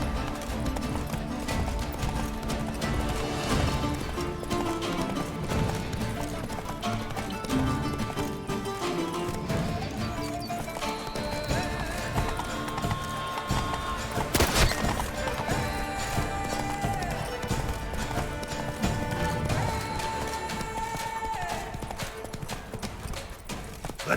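Roach the horse galloping in The Witcher 3: Wild Hunt, rapid rhythmic clip-clop hoofbeats that run continuously for the whole stretch, loud and close, over game ambience, with a brief sharp crash around the middle.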